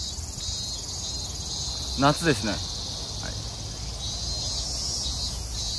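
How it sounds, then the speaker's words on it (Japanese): Cicadas sing on a summer day: a steady, dense high-pitched buzz fills the whole stretch, while a voice briefly speaks over it partway through. "セミってなんで鳴き続けるんでしょうね"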